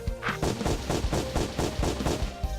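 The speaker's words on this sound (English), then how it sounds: "Slays a foe with the deadly guns." Rapid gunfire from the deadly guns in Barkley, Shut up and Jam: Gaiden, about ten evenly spaced punchy shots in a quick regular rhythm, loud and close with nothing else over them.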